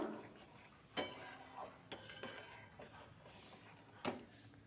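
Raw tamarind sweet-and-sour chutney being stirred in a pan, with a spoon scraping and clanking against the metal in a few sharp knocks spread over several seconds, close and fairly quiet.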